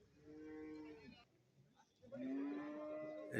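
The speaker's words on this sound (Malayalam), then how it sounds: "ജെല്ലിക്കെട്ട് കാളതായി ഇവിടെ നിൽപ്പുണ്ട്" At a cattle market, a bull gives two long, low moos separated by a short pause, fairly quiet and alone with no clear talk.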